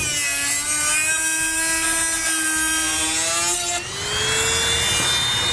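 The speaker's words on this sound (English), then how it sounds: "I'm going to use a Dremel tool to cut it" Dremel rotary tool cutting through the plastic roof of a 2017 Ford van for a roof vent fan, a loud, steady high whine that shifts pitch briefly as the bit bites.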